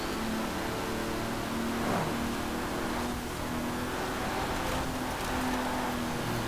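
Several race cars in Forza Horizon 4, including a Ferrari, E-Type and Porsche, roar along together in a classic collectibles seasonal championship, with steady engine drone and rising revs throughout, no voices.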